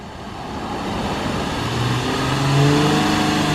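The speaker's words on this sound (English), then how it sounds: "you don't gotta rev it that much" A car engine revs up in a few rising pulls, its steady mid-pitched roar climbing in pitch and loudness toward the end, heard close with no talk over it.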